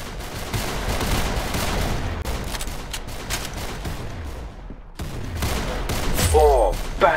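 Rapid gunfire in the Roblox shooter game Arsenal, bursts of loud close shots crackling almost continuously with dense booming impacts across the whole clip, growing heavier toward the end.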